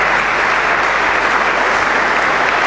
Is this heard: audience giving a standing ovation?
yes